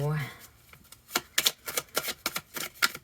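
Tarot cards being shuffled in a tarot reading, a run of quick riffling flutters and taps after a brief bit of speech, close and fairly soft.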